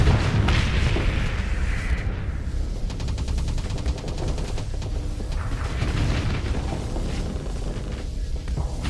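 Starsector space battle with ships exploding, dense loud booming blasts mixed with rapid rattling weapon fire, continuous throughout.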